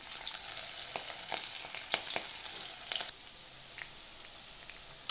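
Mussels fry in hot oil in a heavy-bottomed cast iron pan, giving a steady soft sizzle broken by sharp crackles and pops. The pops come in clusters early on, then the sound settles into a quieter, even hiss.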